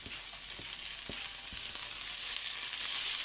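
Onion sizzles in a very hot pan with garlic and ginger, a steady bright frying hiss with a few soft stirring knocks, close and alone with no voices.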